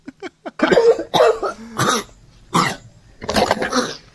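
A person coughs repeatedly in a paranormal-style home recording, a few short light coughs followed by several loud, harsh bursts in uneven clusters, close to the microphone with no talking.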